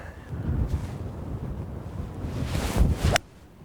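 Wind on a links golf course, buffeting the microphone in loud, gusty low rumbles with airy rushing that builds toward the end before dropping off sharply.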